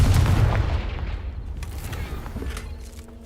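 The Confringo fire spell lands a single heavy, booming blast in Hogwarts Legacy, loud at the start and then decaying into a rumbling tail.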